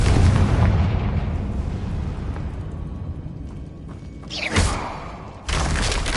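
A Confringo fire spell detonates in the Hogwarts Legacy video game, a broad rumbling blast followed by a sharp burst and a second swelling roar, loud and close with no talk over it.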